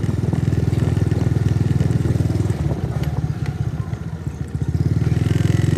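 A motorcycle engine runs steadily with a loud, rhythmic low putter and some rattle throughout, heard up close while riding.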